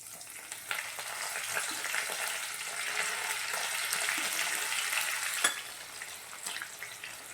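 Green chillies and curry leaves fry in hot oil with cooked chivda while a dry sweet potato and potato dish is made: a steady, close, dense sizzle with faint stirring scrapes and a few crackles throughout, no voices.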